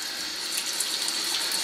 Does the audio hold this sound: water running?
yes